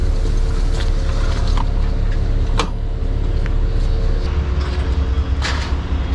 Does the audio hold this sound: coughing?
no